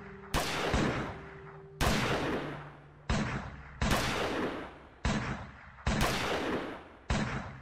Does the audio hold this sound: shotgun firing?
yes